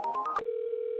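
A telephone call placed through a business phone system: a quick run of four tone presses as the number is dialed, then a steady continuous tone, clear and close with no voices.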